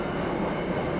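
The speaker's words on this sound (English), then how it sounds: "Westbound empty grain train." An empty westbound grain freight train, NS 51R, rumbles past close by with a steady, loud roar of rolling railcars.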